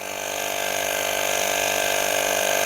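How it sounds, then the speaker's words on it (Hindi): Costar Airboost 2 portable tyre inflator compressor running steadily, a loud close-up buzzing mechanical drone with fast rattling pulses that holds an even level throughout, no voices. "कंप्रेसर का दोस्तों आवाज़ रहेगा, आप यहाँ पे साइलेंट एक्सपेक्ट नहीं कर सकते, क्योंकि कंप्रेसर है तो आवाज़ करेगा ही।"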